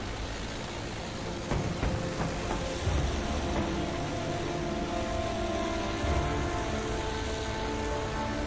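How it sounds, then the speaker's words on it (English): A propeller airplane drones continuously in Battlefield 1, a loud, steady engine roar dense with battlefield rumble and a few sharp impacts underneath. "Airplane coming"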